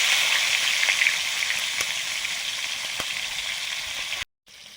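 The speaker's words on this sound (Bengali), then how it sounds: "এবারে কাতলা মাছের মুড়োটা ভাজবো কাতলা মাছের মুড়োটা ভেজে নিচ্ছি" A katla fish head fries in hot mustard oil, giving a loud, steady, close-up sizzle with faint crackles that runs unbroken before cutting off abruptly near the end.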